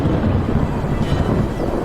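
Deep, rolling thunder from a storm over the Mara Serengeti plains, a continuous low rumble that fills the whole stretch with no voices.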